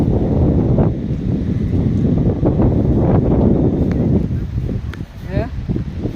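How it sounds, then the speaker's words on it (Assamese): Strong stormy wind buffets the microphone near bamboo and tin-roofed houses, a loud, continuous rumbling roar that eases slightly near the end, with a voice faintly audible beneath it. "বহুত ডাঙৰ বতাহ মাৰি আছে।"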